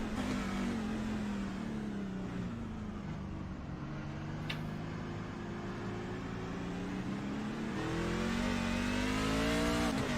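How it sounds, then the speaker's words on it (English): Onboard a race car at Sonoma, the engine drones steadily and then climbs in pitch as it accelerates hard out of a hairpin, close and loud throughout. "if you listen to the engine there, very careful to put the power down out of the hairpin"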